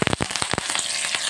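Tempering of cumin, mustard seeds and dried red chilli frying in oil in a pan for peanut chutney, a close, loud crackling sizzle with a few quick pops at the start settling into steady frying.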